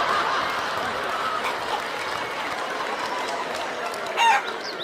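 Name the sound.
chickens clucking and crowing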